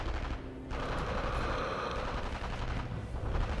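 Dense, continuous gunfire and battle noise from the video game Sniper Elite V2, a steady loud wash of shots with no clear gaps between them.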